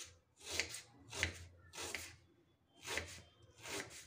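An onion is finely chopped with a knife on a chopping tray for paratha filling: five soft, rhythmic scraping chops, close but faint, with no voices.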